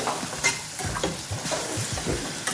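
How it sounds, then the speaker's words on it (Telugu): Coriander powder masala frying in a pan for a tamarind-leaf dal, with a steady close sizzle and repeated scraping stir strokes through the short stretch, no talking. "ఈ విధంగా దీన్ని ఫ్రై చేద్దాము"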